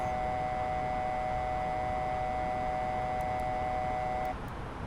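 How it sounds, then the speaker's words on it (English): In a flight-simulator Airbus A320 cockpit, an alarm sounds as a steady electronic tone over constant cockpit hum, holding unbroken for about four seconds before cutting off. "There's an alarm going off."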